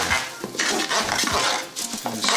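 Rice stirred into softened, translucent shallots in a Circulon pan for risotto: a close, busy scrape of spoon against pan with light grainy rustling and faint clinks, ongoing and fairly loud, no talking.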